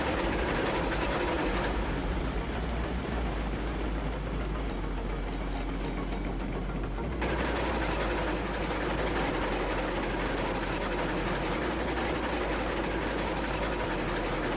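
A train rolls steadily in the video game Railroads Online, a continuous loud rumbling engine drone with rail noise that holds unbroken throughout, no voices.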